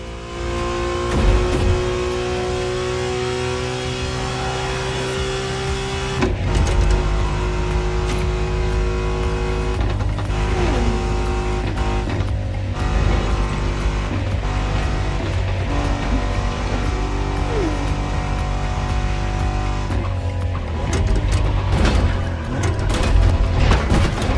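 Concept car driven hard in The Crew Motorfest, its engine loud and constant, rising and falling in pitch with gear changes and throttle, with no talking.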